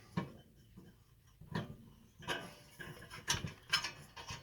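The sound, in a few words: wrench on a generator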